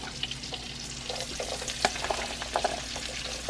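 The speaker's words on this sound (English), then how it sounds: "Now we're gonna start adding in our onions, the garlic." Onions and garlic sizzling in a hot pan for cabbage mac and cheese, a soft steady frying hiss with scattered small pops and stirring clicks, fairly quiet and with no talk.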